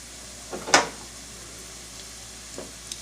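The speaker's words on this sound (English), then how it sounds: "It's got that nice low sizzle." Ingredients for homemade lasagna fry in a pan with a soft, low, steady sizzle, faint and close, with a brief sharper stir or scrape early on.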